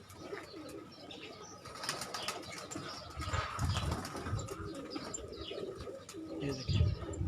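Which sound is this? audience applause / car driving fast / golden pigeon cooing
golden pigeon cooing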